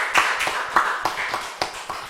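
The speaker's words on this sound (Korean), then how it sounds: "하나님께 영광의 박수 올려드리겠습니다." A church congregation claps during a Friday late-night prayer and worship service, sounding as a handful of distinct, fairly close claps at an uneven rhythm over roughly two seconds.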